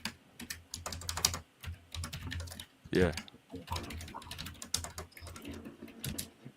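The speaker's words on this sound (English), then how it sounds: "this guy's typing away, creating" Someone types busily on a computer keyboard, bursts of quick clicking keystrokes with brief pauses, close by, while people talk intermittently over it.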